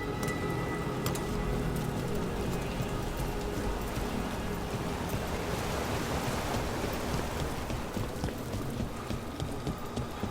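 A waterfall in the video game Dragon Age: The Veilguard, a constant broad rushing roar of falling water that holds steady and loud throughout, with no speech.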